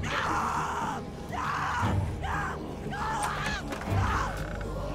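A woman screams in pain in The Walking Dead video game, in repeated drawn-out wails separated by brief breaths, loud and close over a low rumbling background.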